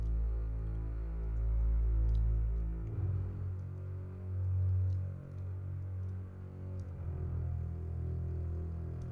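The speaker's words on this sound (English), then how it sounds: "I added this double bass sample, which sounds like this." A sampled double bass plays low, sustained, throbbing notes that swell and fade slowly in a music production, heard alone and fairly quiet.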